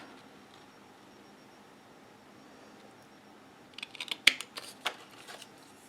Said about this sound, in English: Just snip this right here, and then we can turn it